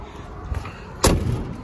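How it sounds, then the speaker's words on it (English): Single solid thud of a door shutting on a 1971 Ford Boss 351 four-speed, one sharp close, preceded by a faint softer knock. "Door shut good."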